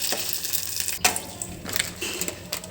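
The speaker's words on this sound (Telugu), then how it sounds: "అన్నీ అయితే ఇలా వేయించేసుకుంటున్నాను నేను" Puffed pani puri rounds frying in very hot oil give a constant crackling sizzle up close, broken by sharp pops and a louder splash-like burst, with light stirring and jostling throughout.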